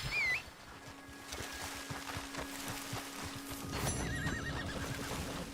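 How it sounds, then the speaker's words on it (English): Horse neighing loudly near the start, then a steady run of clip-clopping hooves and another whinny near the end, set in a video game with background game sounds. "we'll mount this horse"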